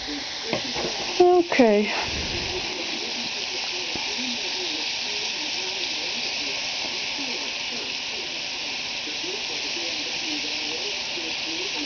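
Bacon frying hot in a pan, a loud steady sizzle and hiss close by, after a brief clatter at the start and a short spoken word.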